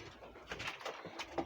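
Pigeons in a loft coo faintly in soft, rounded bursts, with quiet background noise between the calls.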